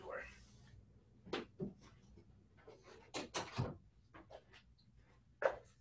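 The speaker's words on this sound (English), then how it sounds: "Let me close my door." A door being pulled shut indoors, giving a few soft thuds and knocks in a quiet room with no talk over them, ending in one sharper close near the end.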